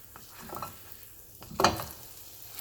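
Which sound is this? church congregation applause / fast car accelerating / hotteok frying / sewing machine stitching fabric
hotteok frying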